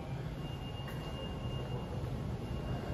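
Steady rumble of a subway train in motion, wheels droning on the rails with a faint high whine running throughout.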